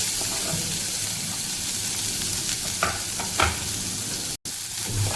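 Chopped garlic and onion hit hot oil with cumin and asafoetida, a continuous close sizzle with a few stirring clicks and brief spatter bursts, steady throughout without any talking.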